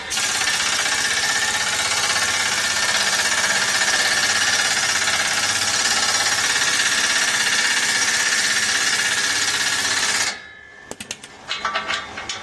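A power wrench hammers loudly and continuously on a suspension bolt of a 2006 GMC Sierra 2500 during lift installation, a dense rattling drive that stops abruptly, followed by a few metallic clinks.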